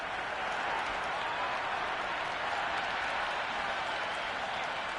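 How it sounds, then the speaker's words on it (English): Stadium crowd in the Cricket 26 video game applauds in a dense, steady roar of clapping that holds at full loudness throughout, with no commentary over it. "The crowd are loving every minute of this match."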